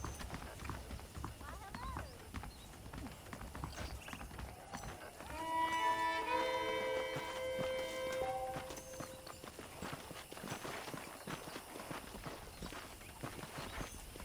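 Horse hooves clip-clop steadily at a walking pace in a video game, with people talking over them and brief music tones.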